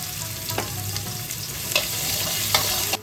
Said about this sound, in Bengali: ওই তেলেই আমি এবার উচ্ছেগুলোকে ভেজে নিচ্ছি।